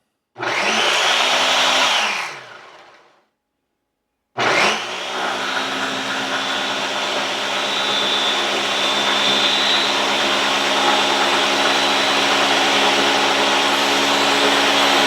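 A new Ninja Professional Plus Blender Duo motor roars loudly for a couple of seconds, winds down into silence, then restarts and runs continuously with a steady high whine.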